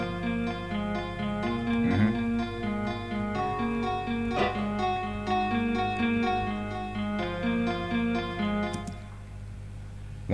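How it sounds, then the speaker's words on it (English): Classic acoustic guitar sample from the FL Studio DirectWave plugin in a beat: plucked notes in a repeating pattern over a steady low backing, with occasional brighter strums, moderately quiet and alone with no voices. "to get this classic acoustic guitar to sound like this."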